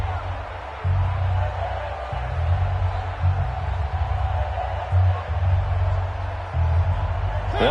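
A stadium crowd in a football video game on PS4 roars in a steady, swelling wall of cheering and whooping ahead of a big third down, filling the background at moderate loudness.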